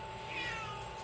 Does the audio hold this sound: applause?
no